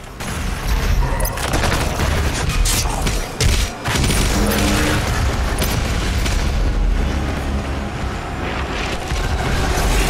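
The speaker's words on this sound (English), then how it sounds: "Double-barreled shotgun on the other hand though." Double-barreled shotgun blasts from DOOM Eternal merge into a dense, continuous barrage of booming gunfire and explosions, loud and close, with a brief dip near the four-second mark.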